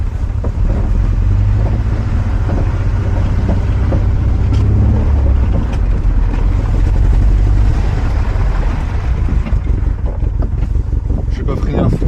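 Volkswagen Golf 1 GLI with failing brakes, a steady loud engine and road roar from inside the car, with wind buffeting and a few brief knocks as it drives.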